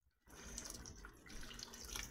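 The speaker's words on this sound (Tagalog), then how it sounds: "Ilagyan ko ng tubig guys, sayang." Water pours steadily into a pot of coconut milk for a Spanish mackerel stew, a soft continuous splashing that starts abruptly after a brief quiet moment and stays close and even, with no talking.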